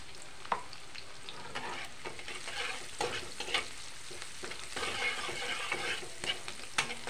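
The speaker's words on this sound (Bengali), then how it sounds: "অল্প ভাজা ভাজা করে নেব।" Garlic cloves and a pinch of turmeric powder fry in hot oil, giving a continuous crackling sizzle broken by occasional sharper pops and stirring scrapes, with no talking.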